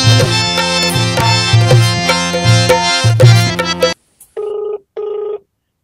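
A telephone rings in a Marathi web-series scene, first under loud continuous background music, then as two clear, separate electronic ring bursts once the music cuts out.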